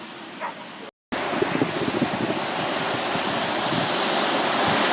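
Sea waves on a foggy Baltic beach make a steady, full wash of surf that rolls on without pause after a brief dropout near the start, with no voices.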